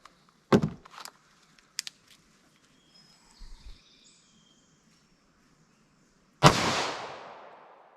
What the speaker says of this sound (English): All right, let's shoot it with the 9mm now.